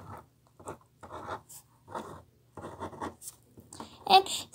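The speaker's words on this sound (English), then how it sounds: "Then you want to write who it's from." A pen or marker writes on a handmade Valentine's Day card, giving short scratchy strokes in bursts with pauses between, close and fairly clear, with no voice over them.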